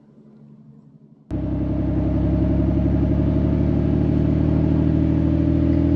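A car engine drives through a lakeside provincial park, starting after a quiet moment with a sudden steady, loud mid-pitched hum that holds at even volume without talk.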